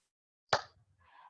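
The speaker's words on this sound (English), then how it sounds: "Let's clap." A single sharp hand clap, close and crisp, followed by a brief low rumble and a faint trailing sound.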